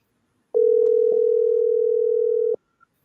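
A steady telephone dial tone sounds for about two seconds, loud and unbroken, with a couple of faint clicks at its start and nothing else around it.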